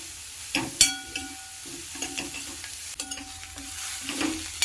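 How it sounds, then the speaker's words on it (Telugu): Carrot and vermicelli fry in a pan for semiya upma, a close sizzle broken by several stirring scrapes and clinks of a utensil against the pan, with no talking. "కొంచెం ఫ్రై అయినాయి క్యారెట్."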